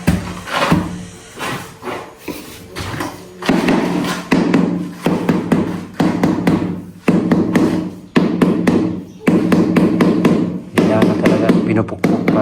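Repeated tapping on newly laid tiles to compress the cement mortar underneath, with irregular bursts of knocks and thuds from close by, varying in loudness and unaccompanied by speech.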